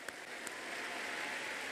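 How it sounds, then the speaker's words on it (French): A church congregation applauds during a family covenant day service, a dense, even wash of clapping that swells slightly and sounds somewhat distant, with no voices. "Applaudissez pour le Seigneur."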